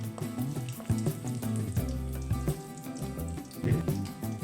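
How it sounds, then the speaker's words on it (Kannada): Water is poured into a hot frying pan holding garlic and dry red chillies while cooking a vegetable stir-fry at home, giving an uneven splashing, bubbling sizzle with scattered clinks, close and moderately loud. "ನೀರು ಹಾಕ್ತೇನೆ."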